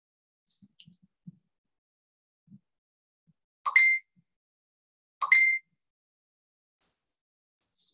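A phone gives two short bright chiming alerts a second or so apart in an otherwise quiet room, each with a crisp ringing tone, amid a few faint soft taps and clicks.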